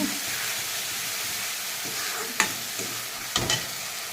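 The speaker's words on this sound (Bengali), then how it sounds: "তোমার মশলাটা ভাজা হয়ে গেছে" A spice paste of poppy seed, chili, ginger and mustard sizzles steadily in hot oil, a soft continuous frying hiss broken by a few sharp scraping stirs near the end.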